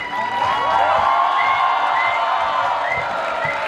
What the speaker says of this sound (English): let's have a thunderous round of applause and wave